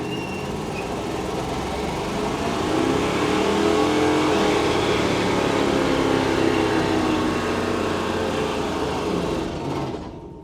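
A 1959 Pontiac Catalina, an abandoned project car, drives past close by, its engine roaring steadily and swelling as it accelerates, then fading at the end.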